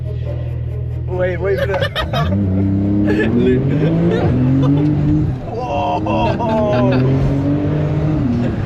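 An 850-brake-horsepower Porsche 911 engine revs and pulls hard through rising gear sweeps, loud and close from inside the car, with people talking and exclaiming over the roar.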